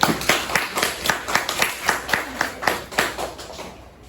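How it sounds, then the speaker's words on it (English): Classroom audience clapping for a student before her rubber band bracelet demo, a steady burst of many hands applauding together for about four seconds, moderately loud and alone without talk. "Give her a round of applause, guys."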